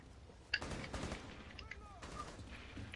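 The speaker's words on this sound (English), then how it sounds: "I'm clearly shooting him." Gunfire in the tactical shooter game Rainbow Six Siege: a sharp shot stands out near the start, followed by rough, noisy bursts of game combat sound at moderate level.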